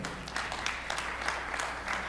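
Sparse, light applause from an audience at a talk on faith, race and gender: a few scattered hand claps, soft and somewhat distant, with no one speaking.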